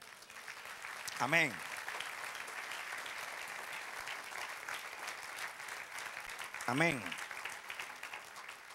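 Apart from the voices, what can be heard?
congregation applause in church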